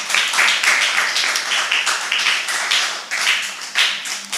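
An audience at a spelling bee claps for a contestant, giving a steady run of close, brisk handclaps that continues without pause.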